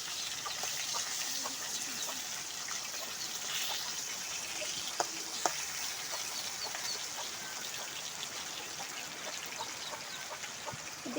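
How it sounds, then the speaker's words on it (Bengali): Potatoes frying in a pan on a home stove give a steady, faint crackling hiss with a few sharper pops, and a rooster calls now and then in the distance. "যে আলুগুলো সুন্দর ভাজা হচ্ছে"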